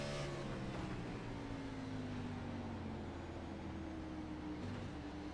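Race car engine in the iRacing sim at Martinsville, droning steadily with a harmonic pitch that slides down as the driver downshifts into third, loud and continuous with no talk over it.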